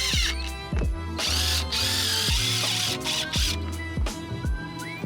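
A power drill drives screws into a van roof while a Maxx Air fan is fitted, making a loud, close whine in repeated bursts that rise and fall as each screw bites, with brief pauses between.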